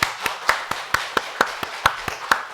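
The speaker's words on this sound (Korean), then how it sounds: "정말 온 생애를 문서전도의 사역에 헌신하신 장로님을 위하여 박수하도록 하겠습니다." Steady, evenly spaced claps at a Korean Sabbath church service, about four per second, sharp and close, from a congregation clapping in unison for an elder.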